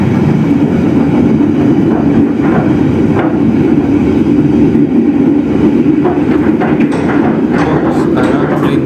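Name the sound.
Senja Utama Yogyakarta train passing through Lingapura station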